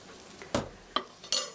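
Three wet clattering thumps of whole canned tomatoes dropping one after another into a pan for spaghetti sauce, close and distinct over quiet background.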